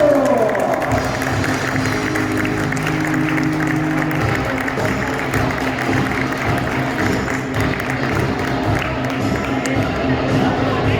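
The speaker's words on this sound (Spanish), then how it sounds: "Un fuerte aplauso para Rafael" Applause from a crowd at a karting awards podium ceremony fills the scene steadily, with dense busy noise and music or chatter mixed beneath, holding at an even level throughout.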